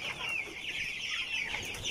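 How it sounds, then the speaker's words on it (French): Chicks and young chickens cheep and cluck in a steady, overlapping chorus of high peeping calls, fairly faint and continuous throughout. "regardez comment sont les poussins"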